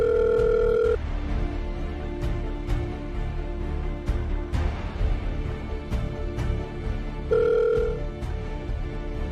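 A telephone rings unanswered, two electronic ring bursts about seven seconds apart at the start and near the end, sounding steady and fairly close over a busy background with a few sharp clicks.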